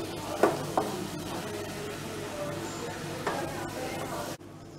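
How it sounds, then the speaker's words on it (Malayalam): Grated carrots for carrot halwa being stirred in a pan, giving soft scraping and a low sizzle with a couple of sharp utensil knocks near the start, close and steady until it cuts off near the end. "ഇനി നമ്മൾ ക്യാരറ്റ് ഇട്ട് കഴിഞ്ഞു ഇനി നമുക്ക് ഒന്ന് നന്നായിട്ട് ഇളക്കി എടുക്കാം."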